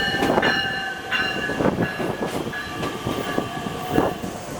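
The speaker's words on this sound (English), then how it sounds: "this right here is the train to Indiana, but this one is only going to Gary" A South Shore Line commuter train bound for Indiana rumbles close by with steady rail clatter, rhythmic wheel clicks and sustained horn-like tonal squeals riding over the noise.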